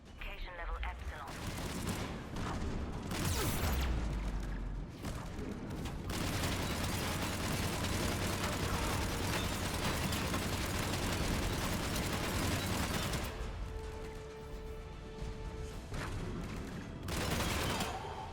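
Heavy gunfire aimed at an Atlas mech in Mass Effect 3 on Insanity difficulty, a loud, dense, continuous barrage with rumbling impacts that drops off briefly near the end, with speech mixed in.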